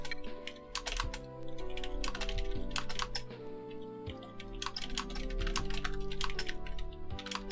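Rapid typing on a computer keyboard during Mavis Beacon Teaches Typing 2000, close, irregular clusters of clicks over soft tonal game music.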